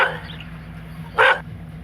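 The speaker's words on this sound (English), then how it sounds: "Dog." A single short dog bark from the Animal 4D+ mobile app, sharp and clear over a low steady hum, with quiet gaps before and after.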